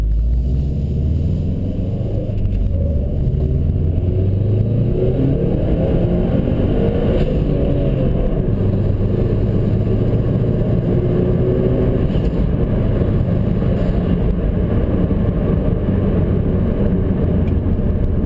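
A 2011 Subaru STI with a Stage 1+ tune on 91 octane pulls hard at full throttle, its engine droning and rising steadily in a loud, continuous in-cabin roar for the whole stretch, with no talking.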